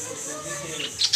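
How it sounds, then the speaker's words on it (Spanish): Small caged pet birds give a few thin, high chirps near the end over a steady background murmur, with faint voices in the room. "Miren, Pollito ya movió sus pajaritos para acá."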